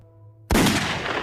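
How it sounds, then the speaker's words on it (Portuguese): A loud gunshot sound effect from the Shadow the Hedgehog intro cracks once after a faint tonal hum, then a booming tail carries it, with no talking. "Tirando o tiro, ninguém esquece do tiro."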